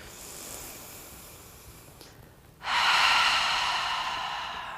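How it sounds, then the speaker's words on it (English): A long breath let out through the mouth during yoga practice, a soft airy exhale that starts abruptly after a quiet inhale and holds steady, close and alone. "Exhale through your mouth."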